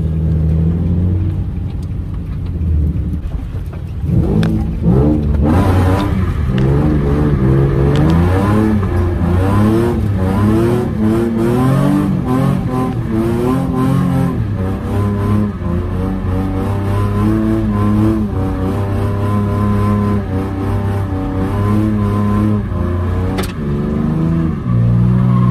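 A Nissan G35 revs hard and holds its engine in loud rising and falling bursts while drifting on a track, heard close and continuous with no talking.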